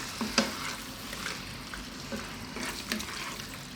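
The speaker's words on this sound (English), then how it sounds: "I'm going to get in and get this mixed into our sauce with the heat on for about just another 2 minutes" Penne pasta gets stirred through hot arrabbiata tomato chili sauce in a pan, a close, steady sizzle with wet scraping and a few utensil knocks against the pan.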